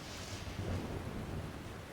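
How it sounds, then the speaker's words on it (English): In the Pokemon Violet video game, a thunderstorm rolls on with a steady wash of rain and a low, distant thunder rumble underneath, continuous and fairly quiet throughout. "If only it hadn't started raining."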